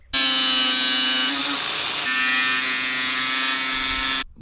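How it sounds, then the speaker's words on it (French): A bench grinding wheel rounds the corners of an old screwdriver that was sharpened like a wood chisel. It gives a loud, steady high-pitched whine for about four seconds, dipping briefly partway through, with no talk. "Avec la meule, je vais arrondir les angles."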